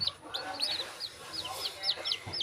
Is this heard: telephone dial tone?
no